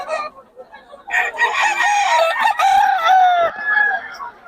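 Young gamecocks at a poultry market in Bocaue crow loudly and close by, with several overlapping crows following one another.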